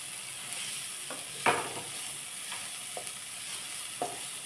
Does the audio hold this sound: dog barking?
no